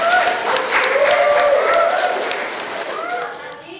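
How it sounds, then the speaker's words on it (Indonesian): Clapping from a classroom of students, a steady burst of applause that fades slightly toward the end. "tepuk tangan buat Mbak Indira."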